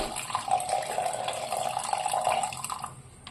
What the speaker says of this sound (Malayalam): ഇതിലേക്ക് നമുക്ക് ആവശ്യത്തിനുള്ള വെള്ളം ഒഴിച്ചു കൊടുക്കാം.